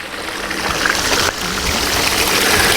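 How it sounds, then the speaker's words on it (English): Water flowing and splashing down a small battery-powered gold prospecting sluice, a close, steady rushing trickle that swells slightly after the first moment with a brief dip midway. "The water comes down."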